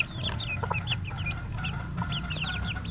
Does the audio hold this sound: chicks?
yes